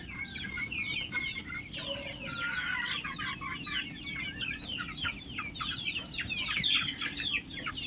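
Poultry chickens cluck repeatedly in a coop, a busy chorus of short overlapping calls at close to moderate distance, continuing throughout over a low steady background hum.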